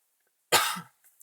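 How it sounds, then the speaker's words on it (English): A single close, sharp cough bursts out once and ends quickly, alone in an otherwise quiet room. "Sorry, I've got a cough."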